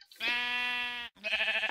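A sheep in the Minecraft video game lets out two clear, wavering bleats close by, the first long and the second shorter, with no talking over them.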